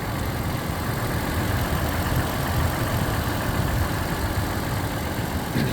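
A 2017 Toyota 4Runner TRD Pro sits idling, its engine giving a steady, even low rumble with no revving, alone and with no talk over it.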